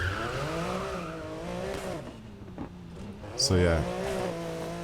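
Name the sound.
rally car driving in the video game Need for Speed Heat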